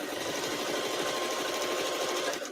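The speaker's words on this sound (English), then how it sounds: "I've been working on this sewing machine, so it sounds a little bit better." A sewing machine runs continuously at speed, punching through thick drape fabric, a fast, even mechanical rattle and whir, close and steady with no talking.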